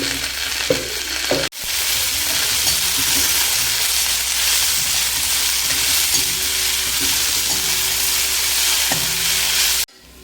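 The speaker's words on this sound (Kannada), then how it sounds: "ಕೊತ್ತಂಬರಿ ಸೊಪ್ಪನ್ನ ಹಾಕ್ಬಿಟ್ಟು ಈರುಳ್ಳಿ ಜೊತೆ ಚೆನ್ನಾಗಿ ಫ್ರೈ ಮಾಡಿಬಿಟ್ಟು ಆಫ್ ಮಾಡಿಬಿಡ್ಬೇಕು" Chopped onions and fresh coriander fry in a pan for paneer Afghani gravy, giving a loud, steady sizzle that runs for about eight seconds, with a few faint stirring scrapes and no talk.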